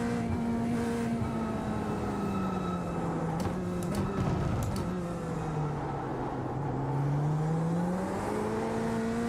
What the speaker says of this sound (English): The engine's real quiet in this.